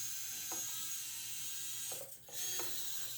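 Tiny gearbox of an Orlandoo Hunter Baby Fat Girl 100mm RC crawler runs at top speed, a faint steady mechanical whine with a few soft clicks and a brief dip near the end.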